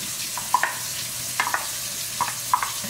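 Rice with eggs and green onions sizzles in a hot pan under a steady hiss, broken by several sharp clinks and scrapes of a spatula as it is stirred, close and without talk.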